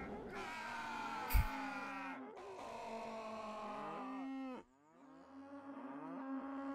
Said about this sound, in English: They, maybe went a little overboard with the cow sound effects.